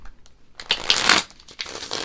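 A deck of tarot cards being shuffled back together during a reading, a few light riffles building to a loud, close burst of flapping cards, then softer ruffles trailing off.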